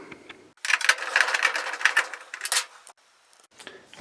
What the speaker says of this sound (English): we will go ahead and remove 3 of these screws in the back there that secure the back panel to the washing machine